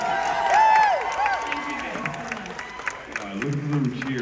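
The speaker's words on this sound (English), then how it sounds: "Look at them cheer." A crowd at a show cheers and whoops fairly faintly, with scattered high shouts and bright yelps rising above a loose, fluctuating background of voices.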